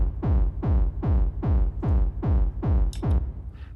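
Eight heavy, booming modular-synth kick drum hits in a steady hard techno rhythm, each with a downward pitch sweep and gritty distortion, plus a short reverb tail; loud and close.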